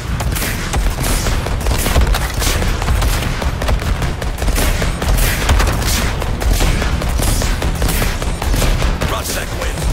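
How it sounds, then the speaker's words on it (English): Explosive device launched and detonating in the Suicide Squad: Kill The Justice League video game, amid a dense, continuous barrage of gunfire and booming blasts that stays loud throughout. "Launching explosive device."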